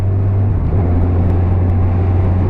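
A 2017 Kawasaki Z1000 motorcycle engine holds a loud, steady low drone at constant pitch while riding, close and continuous with no clear rise in revs.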